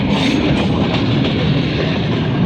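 A cement factory diesel locomotive from Palavi station rumbles loud and close, its continuous roar and rattling wheels filling the whole stretch with no voices.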